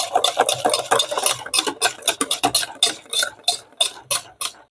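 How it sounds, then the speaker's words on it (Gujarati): Pakoda batter seasoned with turmeric and salt is stirred in a bowl, giving a steady run of wet, scraping strokes at a brisk even rhythm, close and fairly loud, with no talk. "હવે આને આપણે મિક્સ કરી લઈએ"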